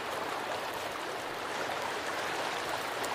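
Steady broadband rush of stream water flowing in the survival video game Sons of the Forest, a continuous even wash with no speech over it.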